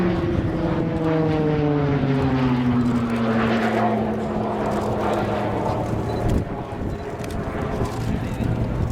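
A Shorts Tucano T1 RAF propeller trainer looping at an air display, its engine drone loud and continuous with pitch gliding downward as it pulls through, carrying distant and airy throughout.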